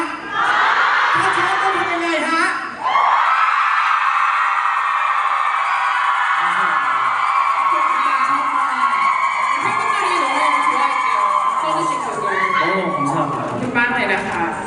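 Screaming fan crowd at a Bangkok concert press event for a 2023 world tour, loud sustained shrieks filling the room, briefly dipping and then swelling again, with a host's voice over it.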